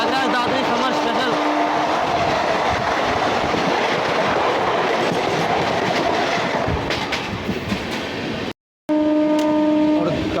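A train runs slowly past Panki Dham station near Kanpur, heard from inside a general coach with a loud continuous rumble and clatter of wheels on rails, a brief dropout near the end.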